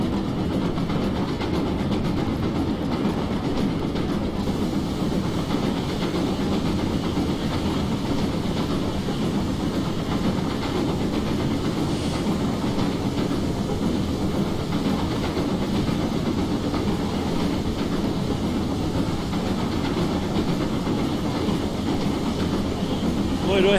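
A GWR Castle steam locomotive in Train Simulator 2016 hauls coaches up a grade on the West Highland Line South, giving a steady, dense rumble that runs unbroken throughout with no distinct beats.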